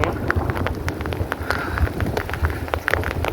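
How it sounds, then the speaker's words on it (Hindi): On a mountain trek around Mount Kailash, rain and hail patter hard and close against gear while gusty wind buffets the microphone, giving loud, uneven bursts of tapping and rumble throughout. "तो हमें ये यात्रा ऐसे ही इन बारिश और ओलों के साथ ही"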